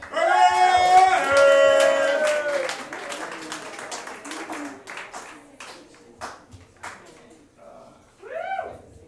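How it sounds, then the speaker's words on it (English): Audience at a comedy show claps over loud music, with a steady run of sharp hand claps that fades while music carries on and a voice rises near the end. "Everybody clap your hands for Alex Neff."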